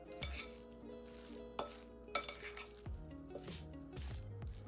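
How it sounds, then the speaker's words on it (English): A spoon mixes vegan lasagna filling with lemon juice in a bowl, producing intermittent scraping and clinks against the dish, quiet and close with a few sharper knocks. "We're gonna mix it all together now until it's completely combined."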